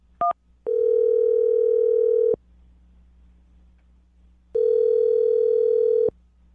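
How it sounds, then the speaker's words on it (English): A telephone line gives a short double beep, then two long, loud, steady tones separated by a silent gap, as a call is placed. "I'm going to dial the phone number right now, get him on the phone"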